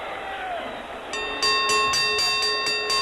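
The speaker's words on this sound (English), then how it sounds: "And there's the bell now," A ringside bell clangs repeatedly in quick, regular strikes at a tag team pro wrestling match in the Boston Garden, bright and loud over crowd noise and a commentator's voice.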